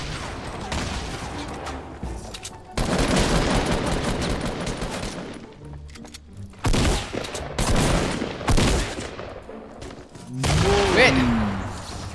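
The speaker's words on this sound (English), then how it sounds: "I changed to my assault rifle instead of shotgun." Assault rifle fire in the video game Fortnite: repeated loud bursts of rapid shots with short gaps between them, mixed with other game sounds and a brief rising tone near the end.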